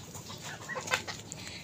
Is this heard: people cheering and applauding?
no